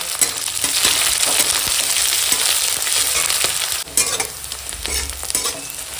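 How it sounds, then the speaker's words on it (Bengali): Panch phoron five-spice seeds and green chilies fry in hot oil with a continuous bright sizzle and crackle, stirred with occasional scraping and tapping in the pan. "এখন ফোড়নটা ভাজা হয়ে গেছে"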